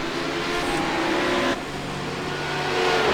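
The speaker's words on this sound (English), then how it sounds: "Can hear a safety car coming up. Yeah, I can hear a car." Simulated race car engine in iRacing at Daytona, a steady mid-pitched motor whine with broadband noise, holding fairly constant and slightly shifting in tone partway through, with no talking.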